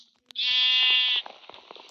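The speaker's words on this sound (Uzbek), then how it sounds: "Qo'ylar tushib ketyapti Kubok Minecraft." A single loud, drawn-out sheep bleat from the Minecraft video game, close and clear, followed by faint background clicks and noise.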